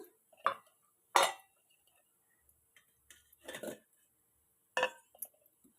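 Fried sweet potato jamuns go into hot sugar syrup with a handful of sharp metallic clinks and taps of utensil against pan, spaced irregularly and close, with silence between them.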